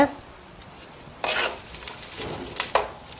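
Onion, green chilli and garlic sauté in hot oil, giving a soft continuous sizzle broken by a few louder bursts of stirring and spoon scraping against the pan.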